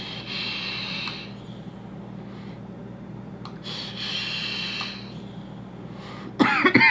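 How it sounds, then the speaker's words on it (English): A mech mod e-cigarette sounds in drawn, breathy hisses, a couple of inhale pulls separated by short pauses, ending in a sudden louder burst of crackle or cough, all close to the mic. "Let's do a mech mod inhale. So it's blowing down to prevent spit back and then inhaling."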